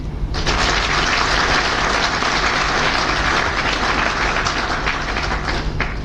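Dense, steady applause from an audience at a televised tax-administration event in honour of the director general, filling the whole stretch loudly and evenly after a brief quiet start.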